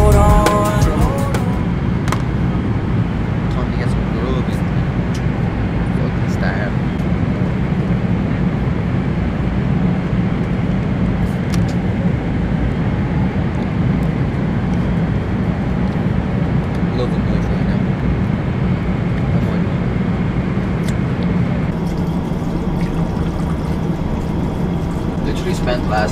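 Steady airplane cabin drone on a long flight: a constant low rumble and hiss that fills the whole stretch evenly, with no clear breaks.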